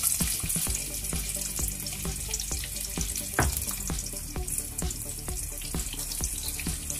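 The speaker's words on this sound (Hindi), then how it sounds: "ऑयल गर्म हो चुका है, अब इसमें हम चॉप्ड ओनियन ऐड करेंगे" Chopped onion fries in hot vegetable oil in a kadai, a bubbling sizzle close by with irregular splashy crackles and a few sharp clicks from stirring.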